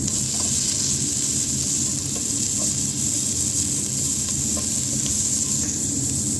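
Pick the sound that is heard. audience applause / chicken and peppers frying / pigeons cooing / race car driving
chicken and peppers frying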